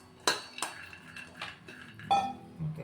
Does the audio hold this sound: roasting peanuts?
yes